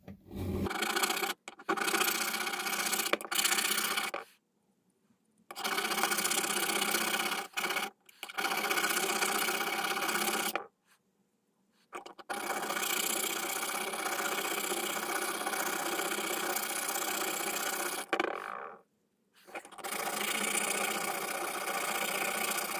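Steady rasping strokes of a sharpening stone chamfering the spine of a Spyderco knife blade, coming in long bursts separated by short pauses, close and clear with no talk.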